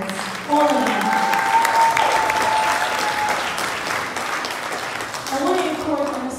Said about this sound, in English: Let's give our contestants another round of applause.